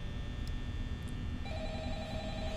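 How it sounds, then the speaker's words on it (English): A telephone rings in the Five Nights at Freddy's video game, a faint electronic tone that shifts pitch partway through and sits alone over a steady low background hum. "No! I don't want to hear your stupid phone call."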